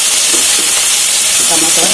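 A tomato curry fries in a pan with a loud, close sizzle and hiss, and a few brief stirring scrapes come through near the end.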